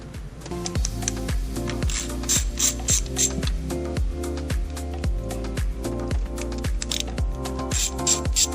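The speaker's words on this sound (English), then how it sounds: "you're just going to loosen all 8 of these bolts" Rapid clicking of a ratchet wrench loosening the eight bolts around a Volvo 2.0 engine's PCV oil trap in quick repeated strokes, a steady mechanical ticking rhythm, close up with no talking.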